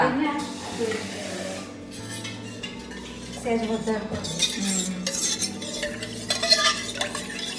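Curry being stirred in a cooking pan, with repeated scraping and clinking of a utensil against the metal and a soft sizzle underneath, close and moderately loud.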